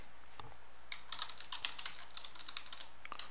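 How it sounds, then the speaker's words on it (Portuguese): Light typing on a computer keyboard while entering text into a document in Illustrator, a quiet, close run of irregular key clicks with no talking. "é só você clicar em qualquer lugar do documento e começar a digitar"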